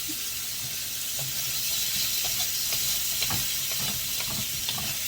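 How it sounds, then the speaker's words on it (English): Seasoned vegetables for a stir fry sauté in a pan with a steady, moderate sizzle and scattered soft pops and clinks of stirring throughout, no voices. "We're going to saute this till it's a nice orangey color."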